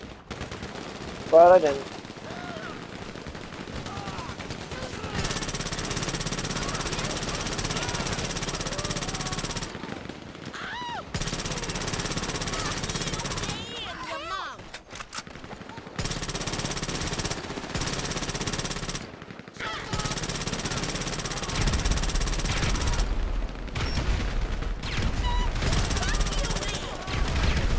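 Automatic carbine gunfire in GTA Online, with repeated loud bursts and sustained rapid shooting through much of the stretch, broken by short gaps and heavier booms near the end; a player speaks briefly between volleys.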